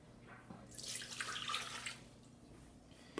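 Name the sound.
pouring a cup of water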